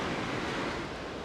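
Ocean waves wash and break in the Great Australian Bight during a fishing trip, a continuous loud rushing surf roar with wind noise and no voices.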